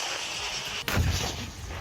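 Russian artillery fire against Ukrainian troops, heard as a single deep boom that cuts through a noisy, rushing background and then rumbles away over the next second.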